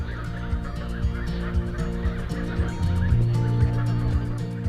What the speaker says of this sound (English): more than 260 fattening geese that graze this orchard meadow on which we're currently standing